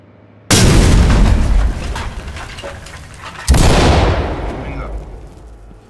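Two heavy, booming detonations of a C2 breaching charge in the Ready or Not SWAT video game. Each is a sudden loud blast followed by a long rumbling decay, and the two land a few seconds apart.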